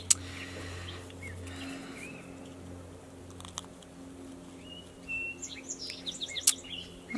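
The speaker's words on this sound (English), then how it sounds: "I thought I'd sit outside today because it's very pleasant out and the birds are singing." Birds chirp and tweet outdoors on a pleasant day, scattered short calls coming from a moderate distance over a quiet background, growing busier toward the end, with a low steady hum underneath and no talking.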